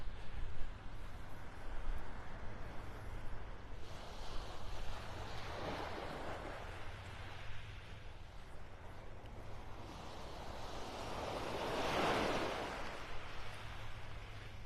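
Ocean waves break on a beach in North Naples, Florida, in slow swells of surf that rise and fade every few seconds over a constant wind-blown wash, with no talking.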